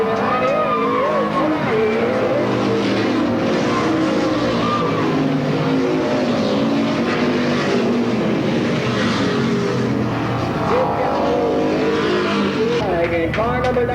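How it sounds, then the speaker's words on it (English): A race car roars loud and close down the front straight of Sandusky Speedway toward the checkered flag in a 1985 event, engine note rising and falling with tire noise, while an announcer calls the race over the top. "The number 98 car, your race leader, Jim Hart, taking through the north end for the final time, bringing down the front straight with a checkered flag"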